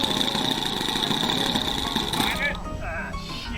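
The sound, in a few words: OS 26 four-stroke engine running on RC model plane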